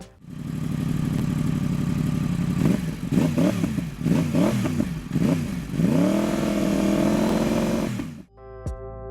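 A Yamaha R1 four-cylinder sport motorcycle engine idles and blips at low revs, a deep burbling rumble with several short throttle rises, then cuts off abruptly.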